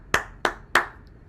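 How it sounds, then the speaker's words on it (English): Three sharp, evenly spaced hand claps ring out close by at a Tehillim gathering, each one crisp and separate. "Everyone, big round of applause."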